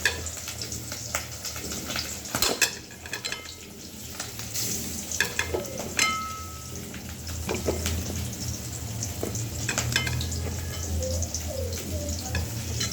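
Fish sizzles steadily in a hot pan with intermittent clatter of stirring, while birds chirp faintly in the background.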